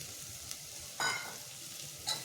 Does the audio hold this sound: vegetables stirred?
yes